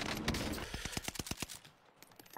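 Rapid video-game gunfire rings out as a dense fusillade, then separates into a quick string of about a dozen sharp, evenly spaced shots before trailing off, loud and close with no talking.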